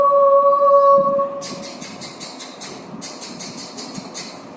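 Children's voices imitate a train engine with rhythmic chugging bursts in two quick runs, following a brief sustained tone at the start, in a classroom setting.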